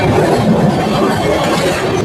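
The Vikrama Simhapuri Amaravathi Super Fast Express runs through Nellore South station without stopping, heard from on board as a loud, steady rumble and rushing roar.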